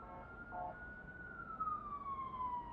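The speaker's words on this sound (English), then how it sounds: "Don't mind the police noise." A police siren wails outside, a single long tone gliding slowly downward, fairly faint and distant over steady background noise.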